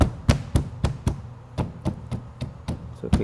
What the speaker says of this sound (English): So we can hear some rattling.